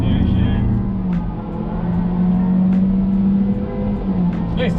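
An 11th-generation Honda Civic RS with a CVT pulls under full acceleration on the Sepang circuit, its loud, steady engine drone heard from inside the cabin and holding a constant pitch throughout.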